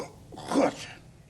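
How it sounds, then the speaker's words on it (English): A single short throat-clear, a rough burst lasting about half a second, close and moderately loud, with faint background noise around it. "I was just clearing my throat."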